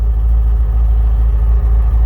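An LS V8-swapped Nissan 240SX with a T56 gearbox idles with a loud, deep, steady rumble as it is shifted into reverse, with no talking.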